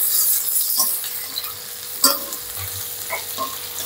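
Fried okra tumbles into a hot pan of masala cooking over high heat, hissing and sizzling with scrapes and a sharp clack of the spoon stirring against the pan, close and alone.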